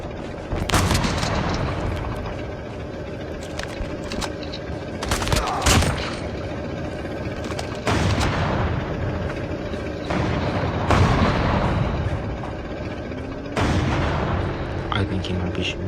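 Call of Duty Mobile battle with repeated bursts of gunfire and heavy artillery booms from a tank, loud and rolling in waves, with a voice talking over parts of it.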